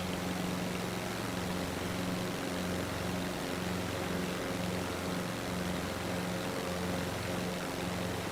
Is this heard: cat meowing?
no